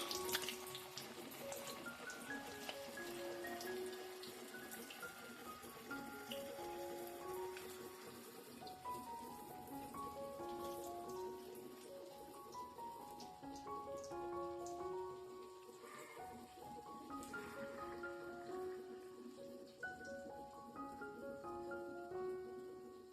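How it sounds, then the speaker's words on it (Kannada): Potato bites fry in hot oil over a low flame, giving a faint, continuous crackling sizzle like light rain beneath a quiet melodic tune, with no talking. "ಇವಾಗ ಎಣ್ಣೆ ಕಾದಿದ್ದಾಗಿದೆ. ಇವಾಗ ಒಂದೊಂದಾಗಿ ಹಾಕೊಳ್ಳೋಣ. ನಿಧಾನ ಉರಿಯಲ್ಲಿ ಕರಿದೆ."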